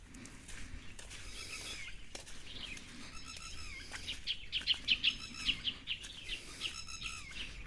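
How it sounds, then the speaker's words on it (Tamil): A sparrow in the forest calls in a burst of quick, bright chirps midway through, fairly close and distinct above a quiet outdoor background with no talk. "குருவி கத்துது,"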